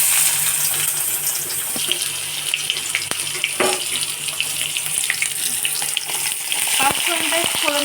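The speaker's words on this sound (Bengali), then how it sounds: "পেঁয়াজটাকে এবার আমরা নরম করে ভেজে নেব" Chopped onions fry in oil with whole cumin, a constant close sizzle dotted with sharp clicks and spoon knocks, with no voices.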